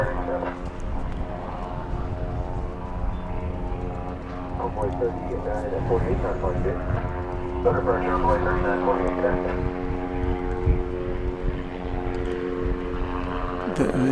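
A propeller-driven plane at DFW Airport drones steadily with a continuous harmonic hum throughout, moderately distant, while people talk over it.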